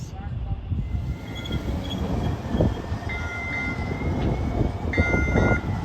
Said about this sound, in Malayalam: റോഡിലൂടെയുള്ള ട്രെയിൻ സർവീസ്.